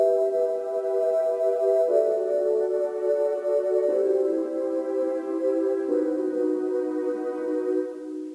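A synthesizer moves through a slow chord progression, four sustained chords of about two seconds each, steady and even with no voices.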